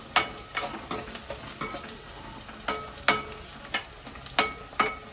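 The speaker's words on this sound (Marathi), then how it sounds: "कांदा परतवू." Onion sautéing in a pan for a vajri (tripe) fry, with a spatula scraping and knocking in an irregular rhythm over a soft, steady sizzle, close by and with no talking.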